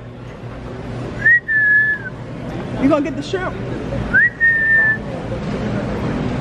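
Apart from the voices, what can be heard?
person whistling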